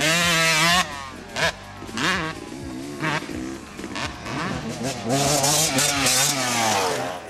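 2009 Yamaha YZ125 and YZ250 two-stroke motocross bikes ride nearby, their engines revving hard and high in rising, falling bursts, and the buzzy raspy exhaust note rises and falls with gear changes and throttle blips throughout.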